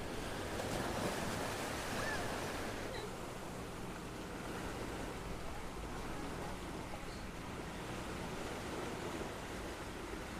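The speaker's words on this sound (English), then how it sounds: "Waves are smashing at rocks." Ocean waves crash against a rocky shoreline on a beach in Goa, a steady broadband roar that carries on throughout with gusts of wind buffeting the microphone.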